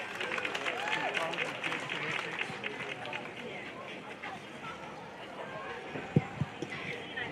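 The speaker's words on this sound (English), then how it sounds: "big round of applause" Applause for young exhibitors at a junior livestock show, a steady dense patter of clapping from an indoor crowd that holds at an even level throughout, with a few sharp thumps near the end.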